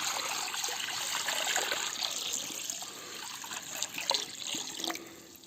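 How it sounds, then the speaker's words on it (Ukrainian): Well water being poured into a cauldron outdoors, a steady close splashing trickle with bright liquid hiss and small gurgling bursts. "Наливаємо колодязної водички в казан."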